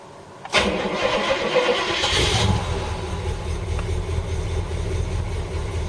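A Jaguar XJ12 fitted with a V8, set up to run on petrol and gas, cranks briefly and then catches, settling into a loud, steady, close-up idle with no talking.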